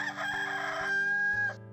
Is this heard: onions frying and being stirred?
no